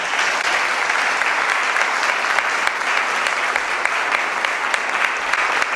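A church congregation applauds in praise, a dense, continuous roar of many hands clapping at a strong, steady level with a few sharper claps standing out.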